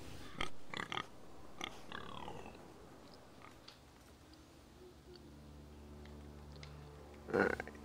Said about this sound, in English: Hello, pig.